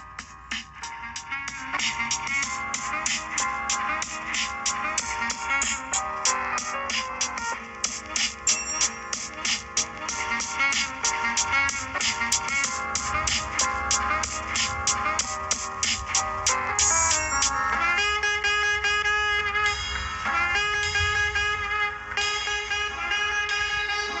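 Full band music plays through a Vivo phone speaker, steady and fairly loud throughout, with a slightly thinner, tinny tone and no talking.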